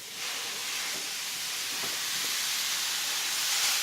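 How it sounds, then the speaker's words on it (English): Ground beef, veal, pork and Italian sausage browning in a pan for lasagna, giving a steady, fairly loud sizzling hiss that builds slightly and runs unbroken, with no voices. "And then we're going to be browning the meat"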